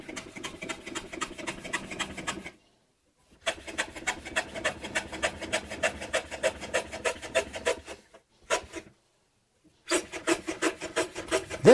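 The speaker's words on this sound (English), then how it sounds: "The first one takes the square block, drops it in place, and cuts the first side." A hand plane trims a wooden block on a shooting board in steady, rhythmic rasping strokes, close and loud, with two short pauses between runs of passes.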